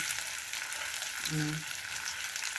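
Maling luncheon meat slices fry in a pan with a bright, steady sizzle close by, and a brief low murmur of voice rises partway through.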